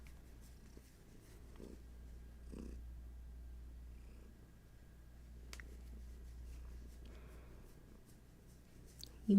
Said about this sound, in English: You might be able to hear some Hattie purrs.